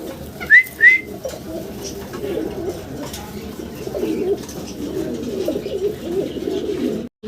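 Pigeons in a Bangladeshi pigeon market, including white Danish birds, coo in soft low rolling phrases throughout, with two brief whistle-like calls near the start and steady crowd murmur beneath.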